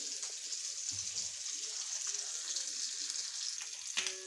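Tuna fish fries in a nonstick pan with a soft, steady hiss and occasional faint crackles and taps, fairly quiet throughout.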